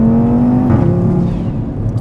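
A 500-horsepower Audi RS3 engine with a strong whooshing, whirring note that rises, then drops sharply partway through as the revs fall, loud and close with no talk over it.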